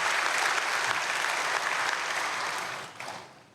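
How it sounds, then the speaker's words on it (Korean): Sustained applause from a church congregation at a Myeongseong Church early-morning prayer service in Seoul, dense and steady at first, then thinning and fading out near the end. "박수하겠습니다."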